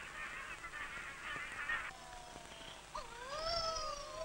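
Tasmanian mutton birds calling, a series of nasal, honking and mewing cries that rise and bend in pitch, some overlapping, heard over a steady outdoor background with no talk.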